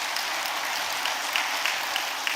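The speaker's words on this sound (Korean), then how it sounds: "우리 크게 박수해 주시기 바랍니다." Applause from a church congregation at a service honouring retiring elders, a steady broad patter of many hands clapping throughout, fairly even in level with a few sharper claps standing out.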